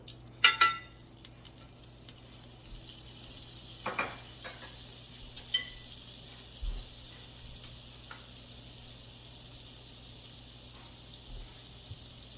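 Butter melting in a pan for a creamy Tuscan shrimp dish, a faint, steady low sizzle running throughout, with a few sharp clanks of utensils against cookware near the start.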